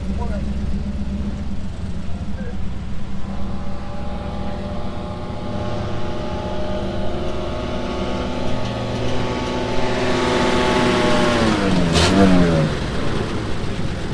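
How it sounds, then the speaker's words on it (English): A Model 8 car at a hill climb festival in Newport, Indiana rumbles near, then revs up sharply as it pulls away, engine pitch climbing and falling; people talk nearby over the engine noise. "Pretty neat Model 8 coming up."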